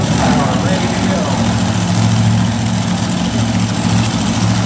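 A Dodge-powered monster truck sits idling at an indoor monster truck show in Salem, Virginia, a loud, deep, steady engine rumble with an arena crowd and an announcer's voice over it.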